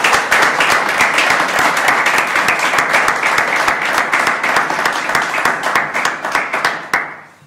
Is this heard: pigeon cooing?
no